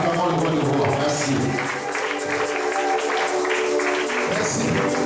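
A church congregation at a Sunday worship service applauds and cheers, a sustained wash of clapping and voices lasting several seconds, with a voice speaking over the crowd.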